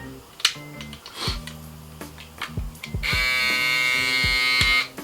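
A Babyliss Pro electric foil shaver buzzes steadily, starting with brief bursts and then running continuously with a bright, strong hum; a few clicks come at the start.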